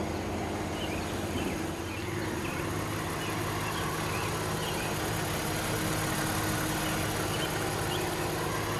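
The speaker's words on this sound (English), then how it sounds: "As you can see, the engine works like a beast." A 2012 Lexus RX 350 engine running, heard as a steady, close, continuous mechanical drone with an even hum that holds at a constant level with no revving and no talk.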